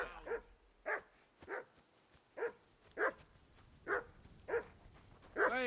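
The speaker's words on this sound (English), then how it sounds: "Hey, call off that dog and then we can talk." Dog barking in Kingdom Come: Deliverance 2, a steady series of about nine sharp, loud barks spaced roughly half a second to a second apart, close by, with no talk over them.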